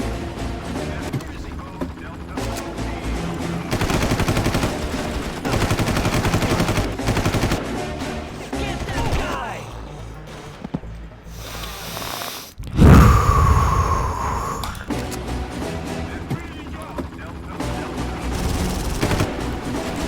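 Gunfire in the video game Far Cry 1, with bursts of rapid shots mixed with game sounds and an agitated voice speaking over the action.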